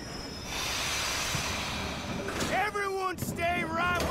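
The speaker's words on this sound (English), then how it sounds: "Train's coming in." A train pulls into a station in the Red Dead Redemption 2 video game. A steady hiss and rumble swell into loud, rising and falling whistle- or brake-like squeals near the end.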